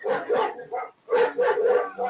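Barking from a dog out in a yard comes as two clustered bursts of loud, close barks with a short gap between them, with no talking over it.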